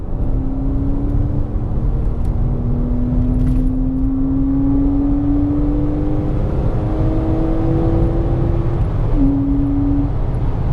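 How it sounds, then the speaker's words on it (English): A Porsche Boxster's engine, around 256 horsepower, climbs steadily in pitch under cabin road rumble as the car accelerates through the gears, with short dips at each shift before the tone rises again. "And that engine just wants to be revved out."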